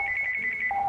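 A telephone rings in The Walking Dead: 400 Days video game, a bright rapid trilling electronic ring that pulses steadily and loudly throughout the short moment, with no voices over it.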